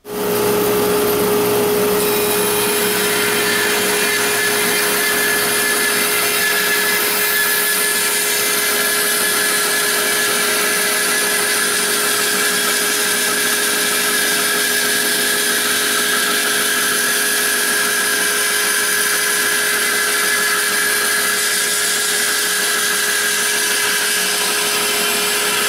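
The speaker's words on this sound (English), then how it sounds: "Now let's take a look at the saw in action as we resaw a piece of wood" A Laguna 1412 bandsaw resaws a piece of wood, giving a steady, loud high-pitched whine and blade hum that holds evenly throughout with no talking.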